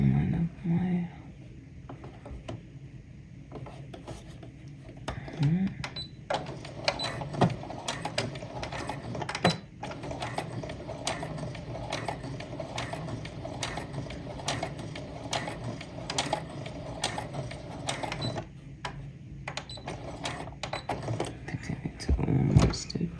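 A sewing machine stitches fabric for an apron in short runs of rapid mechanical clatter, pausing and restarting, with brief bursts of talk in between.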